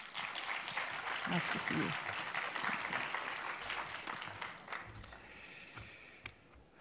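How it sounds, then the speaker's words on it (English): Audience applause fills a hall at an award ceremony for a media prize, broad and steady at first, then thinning out, with someone speaking over it near the start. "A warm round of applause, please."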